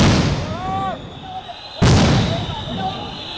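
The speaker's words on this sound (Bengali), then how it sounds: "চাকরিচ্যুত বিডিআর সদস্যদের ছত্রভঙ্গ করতে জলকামান ও সাউন্ড গ্রেনেড ছোড়ে পুলিশ" A police sound grenade goes off with a sharp, loud blast during a protest by dismissed BDR members, set against crowd noise and shouting, and scattered voices carry on under the echoing aftermath.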